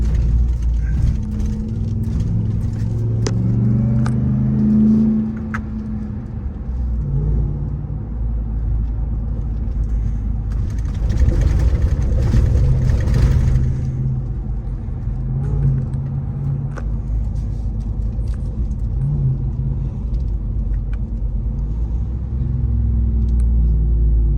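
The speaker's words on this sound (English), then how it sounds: "I want to hear the rumble behind me." A deep, continuous engine rumble from a Jeep Grand Cherokee Trackhawk, steady and close, swelling briefly midway as the motor revs a little harder.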